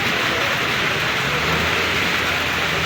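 Steady rain falls during a spell of intense heat, producing a dense, even hiss with no pauses and no voices.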